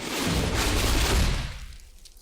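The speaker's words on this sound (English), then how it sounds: "So this is, by the way, a very low explosion." A methane gas explosion in a DN1000 piping test rig gives one deep, muffled boom that swells for about a second and then dies away into a fading rumble.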